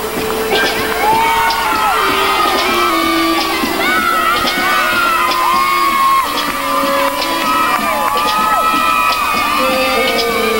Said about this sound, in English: those screams of support here are coming from the Stanford team members